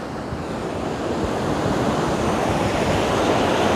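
Rough sea at sunrise under cloudy skies, a continuous loud wash of waves and surf with wind buffeting the microphone, swelling slightly toward the end.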